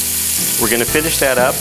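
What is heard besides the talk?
beef tips sizzling in oil and butter in a frying pan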